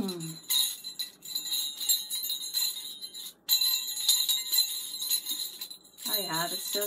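A jingle bell begleri, a bead-and-chain finger toy, swings and shakes, giving bright continuous tinkling and jangling with a brief pause midway; a voice murmurs near the end.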